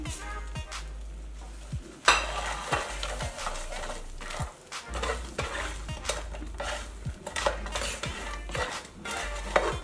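Fried enoki mushrooms being stirred in a pan, with repeated scraping and clinking of a utensil against the metal and a light sizzle underneath, in an irregular rhythm close by.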